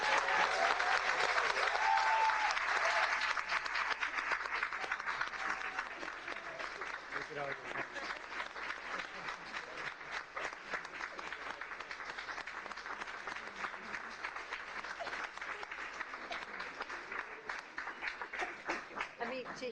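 Sustained audience applause fills a board of education meeting room, a dense wash of many hands clapping that starts loud, eases after a few seconds, then carries on steadily at a moderate level with no voices over it.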